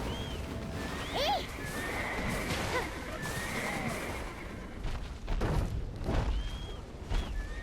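A horse in the Black Desert video game neighs in loud, rising whinnies with clip-clop hooves and distant booms of battle around it, under some background voices.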